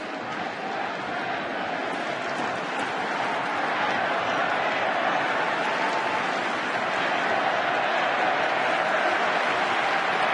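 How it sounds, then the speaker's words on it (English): Steady baseball stadium crowd noise during a 2010 World Series game, a dense continuous murmur and mild cheering that builds slightly, broad and distant with no clear voices standing out. "Crowd trying to get excited again."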